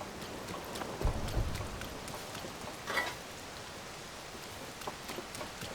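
Steady rain falls in a soft, even hiss in the video game Zelda: Tears of the Kingdom, with a few louder spatters rising briefly above the constant patter.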